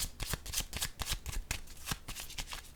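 Tarot cards being shuffled and laid down during a reading, a quick run of crisp riffling flutters and soft slaps repeating every fraction of a second, close and fairly loud with no talk.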